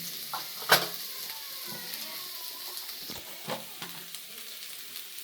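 Sabudana khichdi being stirred as it fries in a pan, a soft steady sizzle with light scraping strokes and one sharp clink near the start, moderately close and alone.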